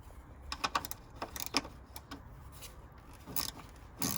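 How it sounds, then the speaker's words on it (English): Quiet, quick ratcheting clicks and small metallic ticks from a ratchet spanner undoing the 13 mm strut top mount nuts on a 2002 Ford Fiesta, irregular and close-up, with no talking. "All I'm using is just a ratchet spanner to get the nuts off the studs there"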